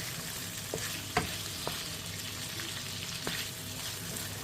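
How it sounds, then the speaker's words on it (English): Onions fry in a pan for a Kenyan-style chicken and potato dish, a constant close sizzle with occasional light clinks and stirring taps scattered over it, and no voices. "we're just going to add the onions."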